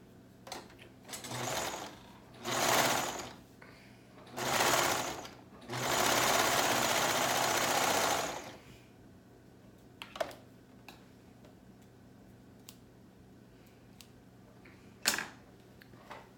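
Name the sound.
sewing machine sewing a hole shut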